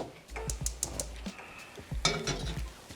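A pot of water for making homemade trout lures is set down on the stove with a few low clunks and clanks of metal, close and moderately soft, followed by light rattling.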